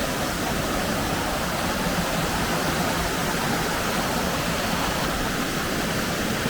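Waterfall on the Daniel Ridge Loop in North Carolina's woods, a steady, full rushing roar of falling water that stays constant and close.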